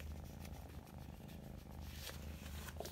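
A calm female cat purrs steadily and close up as she cuddles, a continuous low rumbling drone with no voices over it.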